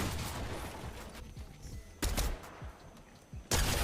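Bursts of rapid gunfire in a Fortnite match, loud volleys cutting in and out with short gaps, heard alone without talk.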